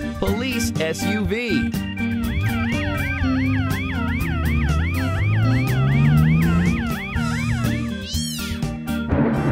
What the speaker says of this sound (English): Police SUV.